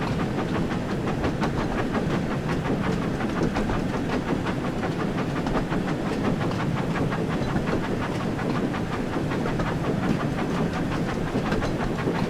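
A train runs steadily in a railway simulator video game, giving a continuous loud rumble with a rapid, regular clickety-clack of wheels over rail joints, unbroken and close throughout, with no voices.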